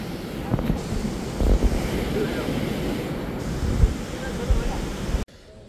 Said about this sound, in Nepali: यस्तो मजाको बाढी आएछ खोलामा